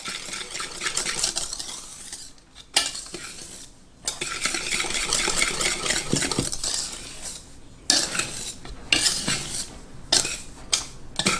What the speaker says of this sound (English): you're going to whisk together all the dry ingredients just to get them incorporated and well mixed up